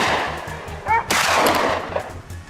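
A hunting rifle shot fired at a wild boar during a German boar hunt cracks once, loud and close, followed by a broad rumbling tail over a steady low hum.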